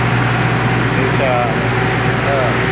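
A palay rice grain dryer runs with a constant mechanical drone and low hum, loud and steady throughout with faint whirring tones on top.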